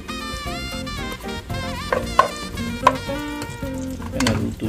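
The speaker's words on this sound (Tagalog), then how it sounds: "Kainin po tayo ng mantika at unahin natin itong onion" Onion frying in cooking oil with a continuous sizzle and occasional clinks of a utensil against the pan, while background music plays over it; no talking.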